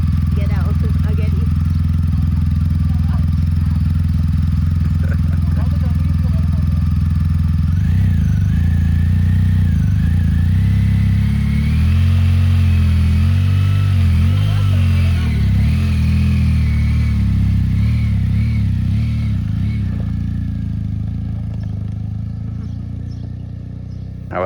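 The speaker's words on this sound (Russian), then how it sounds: "Хозяин захотел попробовать покататься на ГГшике." A motorcycle engine runs steadily while being ridden in Iran, its low throbbing drone swelling and wavering midway as the revs change, then fading slightly toward the end, with people talking over it.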